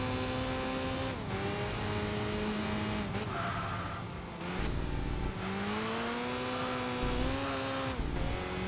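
An Enthusia Type R race car in Enthusia Professional Racing drones with a steady engine whine that rises and falls through gear changes, joined by squealing tires, loud and continuous.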